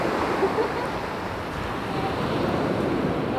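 Sea waves wash onto a beach in Catania, Sicily, a soft, steady surf hiss with light wind, continuous and fairly close, without any talking over it.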